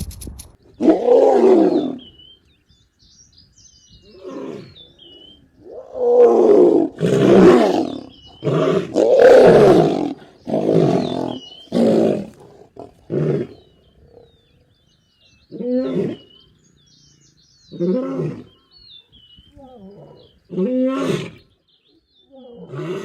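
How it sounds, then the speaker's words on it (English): Lions roar on the Kenyan savanna as an adult male drives a young male away, deep repeated roaring bouts in grunting series, loud and close, with pauses between bursts. "You can hear the tension in the roaring and see it in the young lion's submissive posture."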